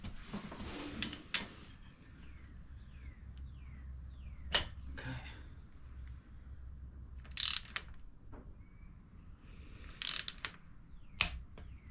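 A torque wrench tightens a new spark plug on a 2022 Harley Davidson Street Bob 114, with a few sharp ratchet clicks and clacks spaced apart over a quiet background.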